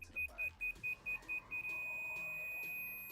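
A laser level beeps in quick, evenly spaced pulses, about seven of them, then settles into one steady high-pitched tone that holds.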